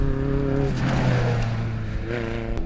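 Steady, loud drone from the engine of a Mitsubishi Colt rally car, heard from on board during a race, with a sustained tone that shifts as the engine revs and the car is bounced around.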